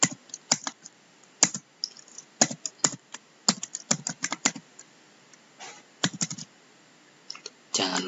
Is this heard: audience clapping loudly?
no